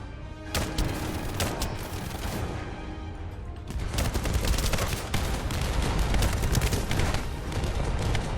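Sustained automatic gunfire in The First Descendant, rapid repeated shots with booming impacts, loud and continuous after a short pause near the start.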